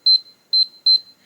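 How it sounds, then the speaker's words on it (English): Revolo electronic keypad deadbolt gives three loud, clean high-pitched beeps in quick succession, each a short double pulse, standing alone with no talk around them. "a long beep and a green flash showing your new user code is now active"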